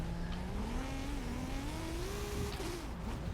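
A rally-built Datsun in Forza Horizon 5 accelerates hard, its engine note climbing steadily as revs rise, loud and close throughout with no talk.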